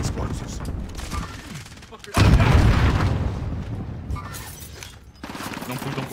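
Video game firefight with bursts of gunfire and a heavy booming explosion that swells midway and fades, loud and dense, while players call out over the action.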